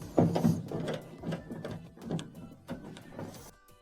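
Phillips screws being backed out of the top panel of a clothes dryer, with a run of small close metallic clicks, ratcheting screwdriver turns and light handling knocks, moderately quiet, without speech.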